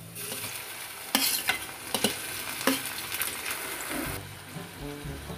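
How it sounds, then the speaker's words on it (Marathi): Onion and tomato fry in a pan for Schezwan noodles, giving a steady close sizzle broken by several sharp scraping stirs near the start and middle, then a quieter hiss toward the end. "आपलं कांदा आणि टोमॅटो छान फ्राय झालेलं आहे."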